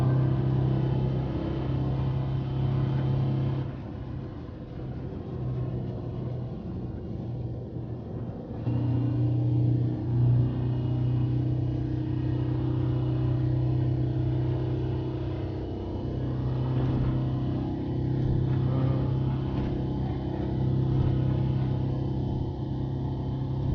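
Volkswagen Samba Type 2 bus racing in Gran Turismo Sport, its engine droning in a steady loud rumble for over twenty seconds, with shifts in pitch as it revs, with no speech.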